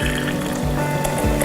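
Hot water pours into a glass jar, the pitch rising as it fills, with a steady close splashing stream and rhythmic gurgles roughly every half second.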